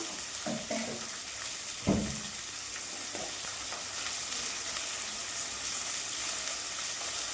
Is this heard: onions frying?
yes